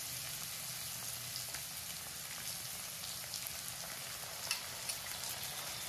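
Onion and ginger paste fries in hot oil with a steady, dense sizzle throughout, close and even, with a few brief spitting pops near the end.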